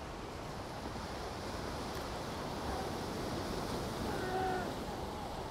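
Ocean waves roll onto the shore in a steady, soft wash of surf, with wind buffeting the microphone and a slight swell as a set comes in, no talk.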